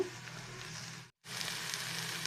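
Onion, tomato and banana stem sauté gently over a low flame, giving a steady, soft sizzle that cuts out briefly in the middle before resuming.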